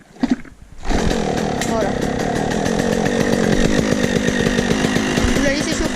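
A cold motocross bike kicks into life with the choke on, then idles loud and close with a rough, steady buzzing throb; a brief spoken word comes just before the engine catches.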